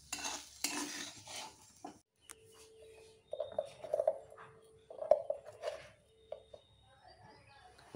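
Food is stirred in a frying pan with a few quiet scrapes and clinks of a utensil between pauses, faint and close, with some soft tonal background noise.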